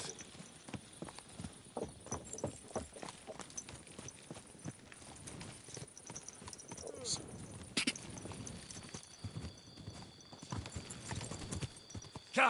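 Horse hooves clip-clopping at a steady walking rhythm in the video game Kingdom Come Deliverance 2, quiet and continuous, with a person speaking briefly over the hoofbeats.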